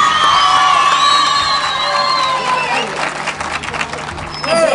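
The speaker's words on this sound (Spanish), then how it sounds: "Un fuerte el aplauso para él." A crowd at a live show cheers, whoops and applauds for the founder of a band, with loud sustained cheering and shouts and a voice over the noise near the end.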